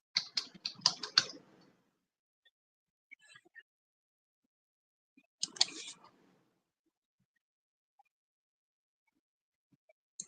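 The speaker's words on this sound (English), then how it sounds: "hold on, I'm going to type it in the chat" Computer keyboard typing comes in two short bursts of quick, close key clicks, separated by near silence with a few isolated taps.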